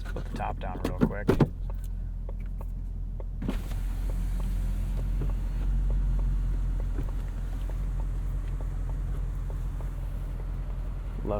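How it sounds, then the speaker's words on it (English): Convertible top of a 2020 Ford Mustang GT Performance Pack lowering, a steady electric motor hum with faint mechanical clicks over the car's low idle rumble, after a few brief clunks at the start. "Let's put the top down real quick."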